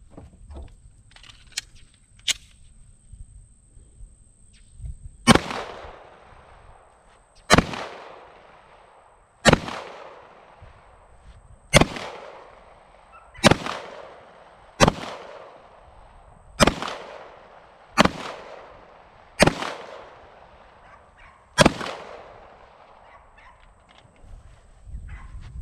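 Pistol fire from a PSA Dagger, a Glock-style handgun, during a ten-round drill: about ten sharp, loud shots spaced a couple of seconds apart, each ringing out briefly, with a few faint clicks before the first shot.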